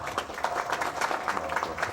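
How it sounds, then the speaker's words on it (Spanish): An audience at a chemistry seminar claps for an engineer. The patter of scattered hands is fairly quiet and steady, with a faint hum beneath it and no speech. "Un fuerte aplauso, por favor, para el ingeniero"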